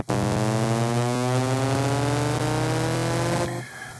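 A drum and bass riser run through a pitch shifter, stereo widening, a bit crusher and compression: a dense, buzzy, harmonic tone that slowly climbs, holds steady and loud, then cuts to a gritty tail near the end.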